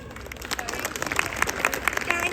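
Audience clapping at a Republic Day (26 January) celebration, a loose steady patter of many hands with sharper claps rising through the middle, fairly close and continuous for the whole stretch.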